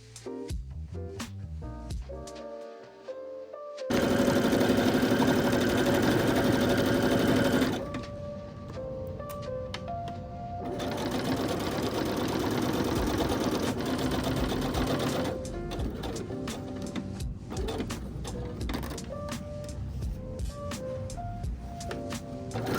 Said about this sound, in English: Then take it to the machine and sew